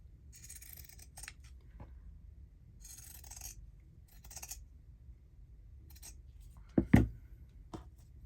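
Scissors trimming paper scraps for journal cards: several close, crisp snipping bursts separated by pauses, followed by a couple of louder thuds near the end, quiet room with no talk.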